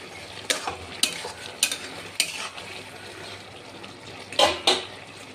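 A spoon stirs poppy seed paste with potatoes in a pan for aloo posto, giving a handful of separate close scraping strokes over a soft, faint sizzle, with no voices.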